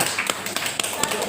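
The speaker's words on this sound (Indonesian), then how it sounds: "Tepuk tangan dulu, sekali." An audience at a district coordination meeting claps briefly, a handful of separate sharp claps and taps in an uneven rhythm, close and moderately loud, with faint talk underneath.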